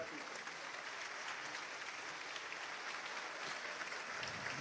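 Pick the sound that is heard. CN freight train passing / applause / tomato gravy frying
applause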